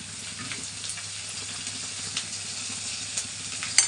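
Onion fries in a pan for an okra stir-fry, giving a steady, moderate sizzle with faint stirring clicks and a few small pops, and no voices.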